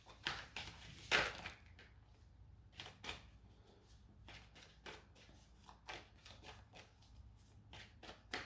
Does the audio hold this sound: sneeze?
no